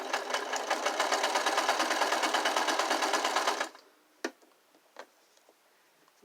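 Close and loud, a sewing machine stitches a curtain hem with a rapid, even ticking for about three and a half seconds, then stops, leaving a few faint clicks and handling taps.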